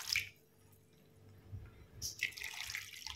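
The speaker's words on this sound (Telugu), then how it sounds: "2 glasses ఆఫ్ వాటర్ వేస్తున్నాను." Water poured into a pot of tomato rasam, a brief splashing pour at the start and another louder pour near the end, close and alone.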